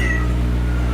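A cat meowing in the video game Cronos: The New Dawn, a single short close mew over a constant low background hum.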